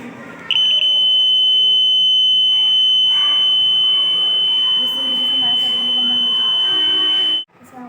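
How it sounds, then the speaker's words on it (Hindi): An iron alarm bell in a school project circuit with battery, switch and heated starter gives a loud, sustained electronic buzzing tone that runs unbroken for several seconds before cutting off abruptly, with faint background voices. "बेल को हमने स्टार्टर के साथ जोड़ा और हम स्टार्टर को हीट करेंगे तो ये अलार्म"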